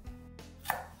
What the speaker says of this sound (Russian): А уже потом нарезать ножом тоненькой соломкой.